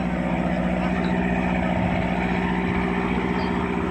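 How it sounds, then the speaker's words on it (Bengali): A passenger speedboat, loaded with about fifty people on the Buriganga river, has its motor running in a steady, loud, droning hum throughout, with no letup. "এই স্পিড বোটটা প্রায় যাত্রী নিয়ে নিয়েছে, এখন চলে যাবে তাদের গন্তব্যে।"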